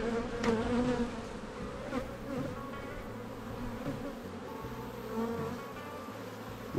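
Buckfast honey bees buzz densely inside an open hive, a loud, close, continuous drone with shifting pitches as individual bees pass near, and no voices.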